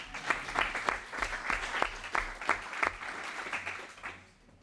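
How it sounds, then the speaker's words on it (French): An audience at a security conference on cross-border cooperation in Greater Geneva gives a round of applause, with distinct individual claps in a loose rhythm that fade out at the end. "on peut adresser quelques applaudissements pour le remercier d'ailleurs"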